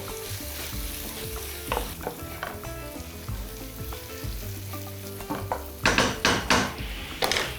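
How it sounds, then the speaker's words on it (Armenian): Eggplant flesh sizzles in a frying pan with a steady crackling hiss, broken by a metal utensil stirring and scraping that turns into loud, rhythmic clatters near the end. "Պտղա միսը տապակում ենք այնքան,"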